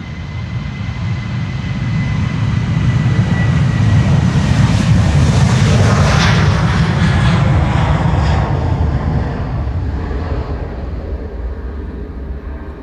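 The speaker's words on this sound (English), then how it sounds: "737 to Stockholm, KLM flight" A KLM Boeing 737 jet departs Schiphol's Polderbaan runway 36L bound for Stockholm, its engines roaring loud and steady, swelling to a peak midway and then slowly fading as it climbs away.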